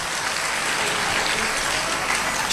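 An audience at a Shiv Mahapuran religious discourse in Sehore applauds loudly and steadily, a dense, sustained wash of clapping from a large crowd.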